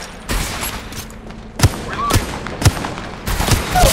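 Apex Legends Mobile gunfire played at max graphics on an iPhone 12 Pro Max cracks out in sharp, separate shots spaced about a second apart, loud and near, over rumbling game noise.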